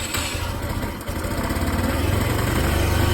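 An X-pro moped engine idles nearby after starting, a steady loud low-pitched putter with an even pulsing rhythm and no talking.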